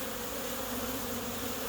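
Busy honey bees, with drones among them, hum at the entrance of a Portland, Oregon hive in spring, a near, continuous buzzing swarm sound heard alone.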